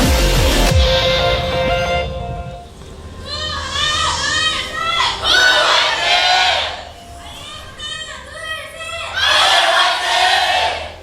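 Esports arena crowd at a League of Legends LCK match cheering loudly in repeated surging waves, rising and falling, with brief lulls between bursts.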